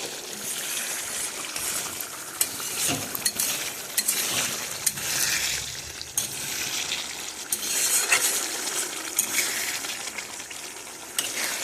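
Fish oil fries in a pan over a low flame with a soft, continuous crackle. Small metallic clinks and scrapes of stirring come through the sizzle at irregular moments.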